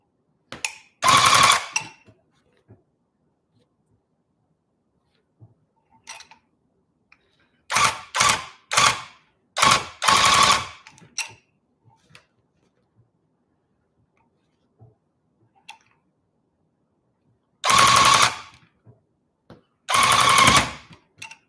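Several bursts from a handheld rug tufting gun, each a second or so of loud mechanical rattling, separated by long quiet gaps, with two clusters of quick bursts mid-way and two more near the end.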